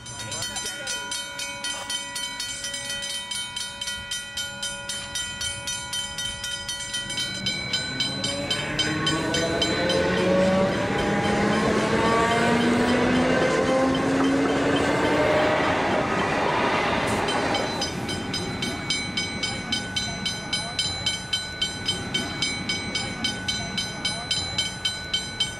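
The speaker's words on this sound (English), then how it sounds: "As Eliza was approaching the railway crossing, the boom gates began to close" A train rumbles past at a railway crossing with boom gates, its wheels clattering and swelling louder mid-clip, with a steady warning bell dinging throughout.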